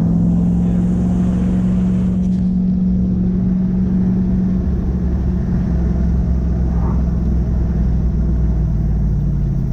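A Toyota Hilux Surf, an automatic fitted with manual shift control, runs with a loud, steady engine drone and rumble heard from inside the cab, its pitch shifting slightly as it moves through the gears.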